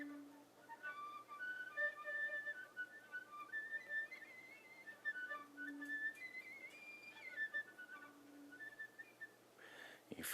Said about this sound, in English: We're just simply breathing and trying the whistle tones.